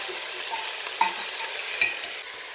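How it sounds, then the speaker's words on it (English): A spoon stirring through a thick chicken stew with green beans in a pot, soft scraping and a couple of light metallic clinks over a gentle sizzle. "Just give that a bit of a mix."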